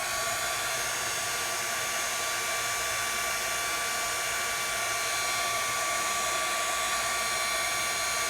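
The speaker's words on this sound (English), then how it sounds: "Bring over my heat tool." Heat tool blows hot air onto shrink plastic while crafting, a steady, loud, continuous whooshing hum with no voices.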